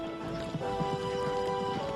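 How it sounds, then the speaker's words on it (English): A wild Mustang horse, with steady hoof clatter and snorting under a continuous tonal music bed, close and moderately loud. "In the United States, you can find a wild horse called the Mustang."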